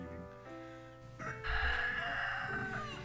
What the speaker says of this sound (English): Thank you, Rooster.